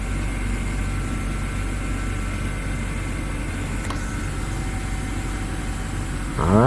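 A 2006 BMW E90 engine idles steadily after a misfire and vibration repair, a constant low hum with a faint even drone and no other sounds until a brief rise right at the end.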